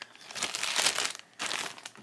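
A plastic bag crinkles and rustles in two bursts as doll heads are pushed inside, with a short pause between, close and fairly loud.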